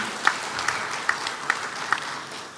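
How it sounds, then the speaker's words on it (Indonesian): Applause for award winners at a ministerial ceremony, a sustained diffuse clapping wash with a few sharper claps standing out roughly every half second, moderately loud. "Sekali lagi tepuk tangan untuk para teladan."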